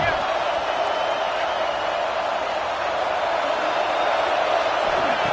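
In College Football 26, the Alabama Crimson Tide home crowd roars on third down as a dense, unbroken wash of stadium noise that stays loud and level throughout.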